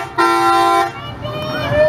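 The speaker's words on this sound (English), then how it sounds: "That's too much honk for that truck." A truck horn at a county fair parade blares loud and close in two long toots, with voices talking under and after it.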